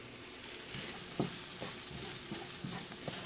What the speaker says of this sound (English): I'm going to go ahead and cook my peppers